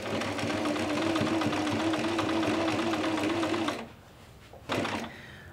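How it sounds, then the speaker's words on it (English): A sewing machine runs a decorative stitch in pink thread, sewn from the centre of a summer dress outward, with a steady, fast mechanical whir. It stops abruptly near the end, followed by a brief short burst. "So I'm going to sew from the centre and work my way out."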